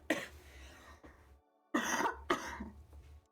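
A person coughs several times in short bursts while sewing a cosplay tail indoors, a couple of softer coughs followed by two louder, close harsh ones with quiet gaps between.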